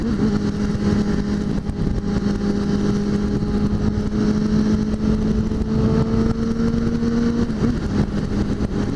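A BMW S1000 RR sport motorcycle engine runs steadily at close range, a loud sustained drone with a constant pitch that holds, rising slightly, before a brief break near the end.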